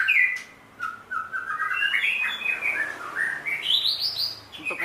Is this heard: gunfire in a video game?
no